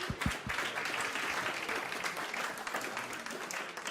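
An audience claps for a singer at a live election-results evening broadcast, a fairly steady wash of applause from a moderate-sized crowd, with a few low thumps at the start.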